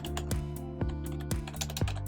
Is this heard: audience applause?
no